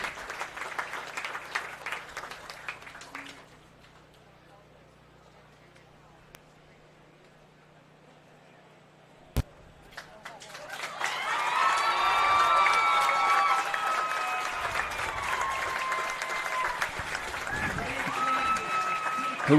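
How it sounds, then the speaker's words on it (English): Crowd applause and cheering at a 4-H starter calf show at the Adams County county fair, starting quiet and sparse, then swelling around midway into loud, sustained clapping with shouts that carries to the end. "Let's give them a round of applause, and we'll get a grand in reserve."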